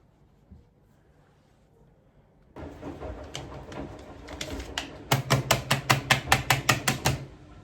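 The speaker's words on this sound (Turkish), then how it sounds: "Şöyle çırpıyorum bu ikinci filtresi." A second lint filter from a washing machine being beaten to knock dust out, first a few scattered taps, then about ten sharp, rhythmic slaps close by.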